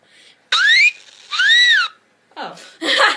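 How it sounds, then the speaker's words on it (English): Whistled notes from a person, four separate phrases in about three seconds, with bright rising and falling glides, close and fairly loud with no talk. "I can't really whistle very well"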